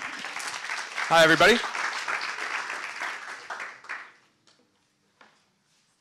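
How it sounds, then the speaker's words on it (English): Applause from an audience rises briefly beneath a voice talking, then fades out with scattered last claps. "round of applause"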